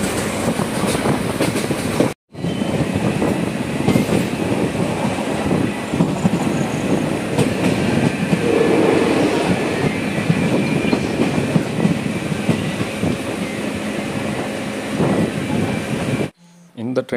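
The Coimbatore–Madurai Intercity Express rumbles steadily along the rails with rhythmic clattering, loud and close, with a brief break near the start before the noise resumes.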